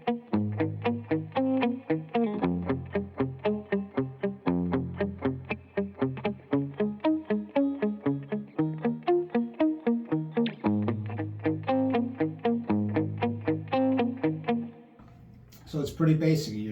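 Electric guitar picks a full arpeggiated 1980s pop riff, clean with chorus-like shimmer, steady rhythmic notes ringing close and bright for about fifteen seconds before a brief noisy scrape at the end.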